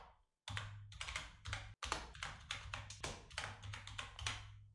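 Rapid typing on a computer keyboard, close and clear, with irregular bursts of key clicks and one brief pause early on, no talking.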